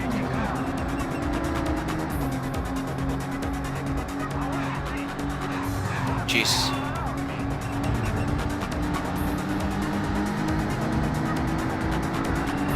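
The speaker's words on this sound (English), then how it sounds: "This car's got like an interesting engine note." In the Midnight Club 2 video game, a car's engine drones with a steady vacuum-cleaner-like hum, racing along continuously with faint tire hiss and a brief sharp burst midway, as a man briefly exclaims.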